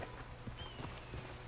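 Horse hooves clip-clop at a steady walking pace in Red Dead Redemption 2, a few soft, evenly spaced low thuds over a constant ambient bed.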